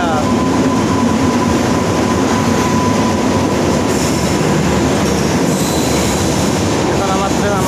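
A train rolling along on the journey from Guwahati to Bangalore, heard from inside as a loud continuous rumble with wheel clatter and a thin metallic squeal, with faint voices in the background.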